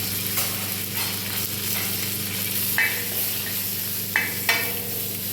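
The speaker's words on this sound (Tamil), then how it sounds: "கருவேப்பிலை போட்டு இடித்து வச்ச பூண்டையும் போட்டு நல்லா வதக்கி விடணும்" Mustard seeds, curry leaves and crushed garlic fry in hot oil in a pan, giving a steady close sizzle with a few sharp spits and pops, no one speaking.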